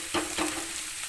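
Elephant foot yam stems fry with spice paste in a pan for a prawn dish and get stirred, a steady sizzle cut by two or three scraping stir strokes. The strokes are close and even, and nobody speaks.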